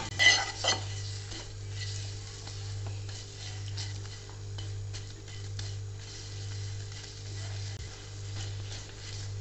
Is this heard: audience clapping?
no